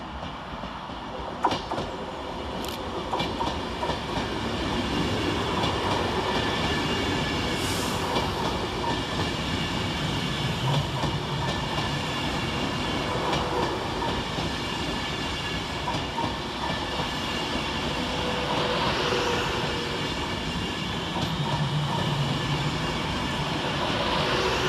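An Avanti passenger train passes through Aston station at steady speed. Its rumble and wheel clatter stay loud and continuous throughout.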